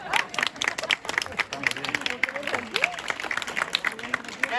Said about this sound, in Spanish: un aplauso para todos y para todas